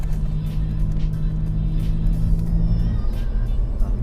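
Tuned BMW M4 stage 2+ engine idling with its exhaust valve closed, a steady, close, deep rumble that stays even throughout, with no talking.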